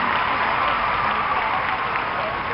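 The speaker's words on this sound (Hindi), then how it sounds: "एक बार जोरदार तालियां बजा के सभी लाडलियों का स्वागत करूं" Audience at a Madhya Pradesh state event for Ladli Lakshmi girls applauding loudly and steadily, a dense continuous wash of clapping with crowd murmur, alone and unbroken throughout.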